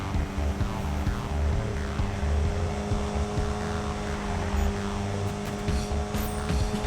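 Car engine racing in the Need for Speed video game, a steady droning whine that holds at a strong, even level throughout with no talk.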